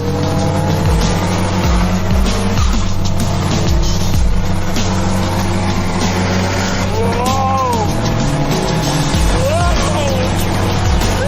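A Subaru Forester SG with a conventional manual transmission races hard, its engine droning loud and continuous while the pitch rises and falls through gear changes, and tires squeal in short rising chirps.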